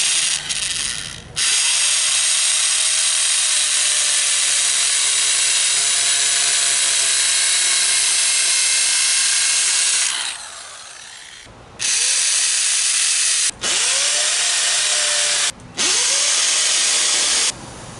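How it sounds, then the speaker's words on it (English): Cheap Harbor Freight hammer drill boring into a concrete driveway, a loud continuous rattling hammer drone running for about nine seconds, then several shorter bursts separated by brief pauses. "my cheap Harbor Freight hammer drill actually made short work of the concrete drilling"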